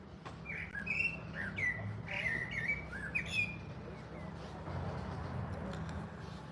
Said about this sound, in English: you can hear the birds singing in the background.